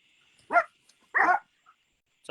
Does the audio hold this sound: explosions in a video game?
no